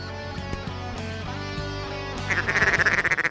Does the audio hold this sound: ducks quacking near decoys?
yes